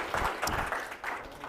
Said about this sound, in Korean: 예, 그럼 박수 한번 쳐주시고.